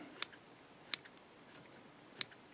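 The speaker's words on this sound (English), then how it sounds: "we'll take a pair of curved scissors." A few crisp, sharp snips of small curved scissors trimming fly tying material, three quick cuts spaced apart in a quiet room.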